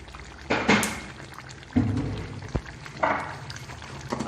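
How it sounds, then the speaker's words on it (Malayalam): A teaspoon of mustard seeds splutters in oil released from roasted coconut for a bitter gourd curry, with sharp, scattered pops and crackles breaking out over a quieter sizzling background. "അത് നല്ലോണം പൊട്ടി വന്നിട്ടുണ്ട്."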